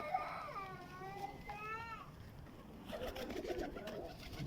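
Pigeons kept in a rooftop loft give a few close, soft wavering coos, followed by fainter rustling and scuffling in the background.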